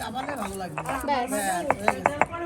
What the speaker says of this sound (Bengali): শুকনো লঙ্কা বাটাচ্ছে